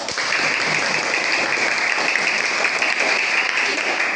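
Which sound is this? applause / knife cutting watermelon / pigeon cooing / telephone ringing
applause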